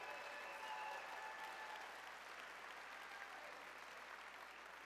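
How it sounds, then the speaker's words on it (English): An audience at a college athletic hall of fame induction ceremony applauds steadily, a dense, even wash of clapping that holds for the whole stretch without voices over it. "Will you please join me in a round of applause"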